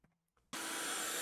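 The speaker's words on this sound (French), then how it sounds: "Un petit bruit d'aspirateur cette merde." A vacuum cleaner in the video game House Flipper switches on abruptly after a short quiet moment, then roars steadily and loudly as a bright, sustained whoosh.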